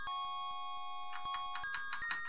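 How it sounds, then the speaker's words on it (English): A chiming electronic bell in the Kangaroo arcade video game by Atari and Sun Electronics rings over steady tones and rhythmic game blips, with brighter bursts of chimes toward the end. "Forgot about the bell actually generates more fruit"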